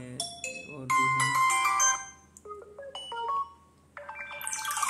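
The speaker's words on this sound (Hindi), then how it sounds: "रिंगटोन पर जाने के बाद यहाँ से आपको देख रहा होगा डिफरेंट डिफरेंट टाइप के जो आपको रिंगटोन दी जा रही है" Ringtones on a vivo S1 Pro smartphone are previewed one after another: short bright melodic jingles and chiming tones, clear and close, each cut off as the next begins.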